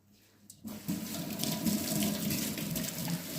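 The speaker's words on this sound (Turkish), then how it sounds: "Şimdi bir kere daha durulayacağım arkadaşlar." Running water pours steadily onto a dark kitchen countertop during rinsing, starting abruptly after a quiet moment and then holding a continuous splashing rush.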